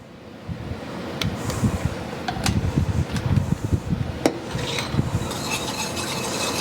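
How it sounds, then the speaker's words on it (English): A mint ice cream base whisked in a bowl, rhythmic swishing and scraping with a few sharp metal taps against the rim, close and moderately loud. "we're going to whisk that all together"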